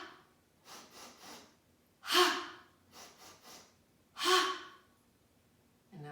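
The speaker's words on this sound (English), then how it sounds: "3 quick breaths through the nose." Quick breaths through the nose during a breathing exercise: three sets of short, rhythmic sniffing breaths, each set ended by a strong, loud exhale. The sound is close, alone, and separated by quiet pauses.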